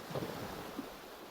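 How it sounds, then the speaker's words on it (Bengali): Ocean waves wash onto the shore at Kihaadhoo island in the Maldives as a soft, continuous rushing surf mixed with wind noise, quiet and fairly distant. "এই দেখেন ঢেউ আসতেছে এই দেখেন ঢেউ ও মাই গড বড় বড় ঢেউ ছোট ছোট ঢেউ"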